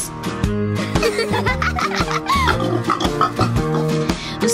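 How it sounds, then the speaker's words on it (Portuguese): Cartoonish pig oinks and grunts sound in a Portuguese children's farm song, several quick squeals layered over bouncy music with giggly, laugh-like bits. "Os porcos estão na lama"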